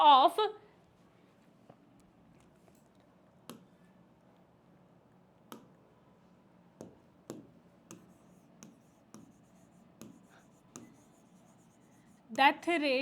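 A teacher writes on a classroom board during a biology lesson, giving a series of short, dry chalk-like taps and strokes spaced through the quiet stretch, with brief speech at the very start and end.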